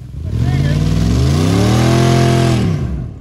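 Ford F150 pickup engine revving hard through a tire burnout, a loud, sustained roar that climbs in pitch, holds high, then drops off near the end.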